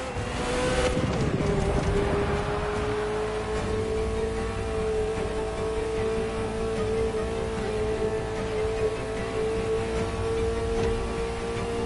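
A Ferrari sports car's engine drones steadily and loudly as the car drives, with a sustained tonal hum holding nearly constant throughout after a brief rise at the start.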